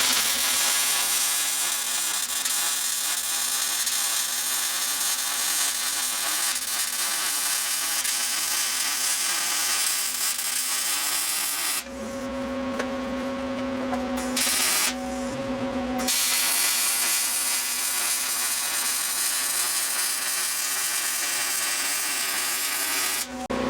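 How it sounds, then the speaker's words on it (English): MIG-style welding on a Bronco II body seam gives a steady, close crackling buzz that runs for long stretches. It stops briefly twice, leaving a faint electrical hum in the gaps. "So right now I'm welding downhill, and then I'll go back over it and go uphill."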